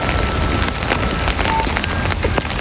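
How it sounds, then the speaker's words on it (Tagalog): Heavy rain pours steadily in the Philippines, a dense, loud, continuous hiss of drops hitting surfaces with no pause across the short stretch. "Malakas pa rin ang ulan eh."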